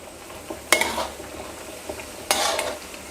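Pea eggplants and fingerroot stirred in a hot pan: two distinct scraping sweeps of a spatula over a low sizzle, with quiet moments between them and no speech.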